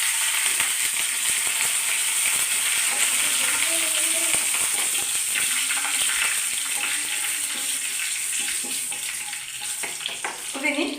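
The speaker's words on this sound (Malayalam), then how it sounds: "ഇനി നമുക്ക് കടുക് ഒന്ന് പൊട്ടണം." Mustard seeds, curry leaves and dried chillies sizzle loudly and steadily in hot oil while tempering for a beef curry, a close, continuous crackling hiss with a faint voice underneath.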